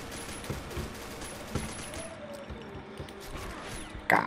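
Rapid bursts of gunfire from the online shooter game Combat Arms, several sharp volleys spaced through the stretch and a louder close burst at the end, over a steady background of game ambience.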